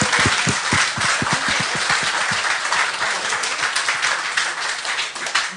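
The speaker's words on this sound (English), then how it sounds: "Alors, une bonne main d'applaudissement." Audience applause at a Third Tuesday Montreal gathering: a dense, steady wash of many hands clapping, loud and sustained throughout, with individual claps standing out near the start.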